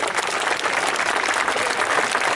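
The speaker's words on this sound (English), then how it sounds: "give her a lovely round of applause" Outdoor crowd applause at a falconry display during the Great Dorset Steam Fair, a steady, close, continuous round of clapping with no talk over it.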